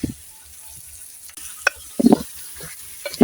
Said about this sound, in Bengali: এখন মাছ দিয়ে দিব কড়াইয়ে,